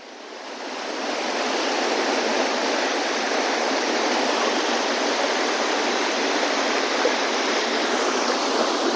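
A mountain waterfall near Kathmandu, Nepal, roars as a steady, dense rush of falling water, loud and continuous, swelling in over the first second and holding without a break.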